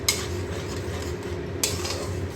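Mustard and poppy seed paste being stirred in a pan for prawn malai curry, with two sharp utensil clinks against the pan over a steady low scraping and faint sizzle, no talking.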